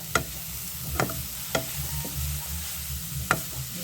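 Grated carrot frying in a pan, a steady low sizzle under a few sharp spatula scrapes and taps spaced about a second apart, close and moderately quiet.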